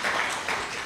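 Steady applause from an audience at a public announcement event in Birmingham, a dense continuous wash of clapping that holds at an even level for under a second.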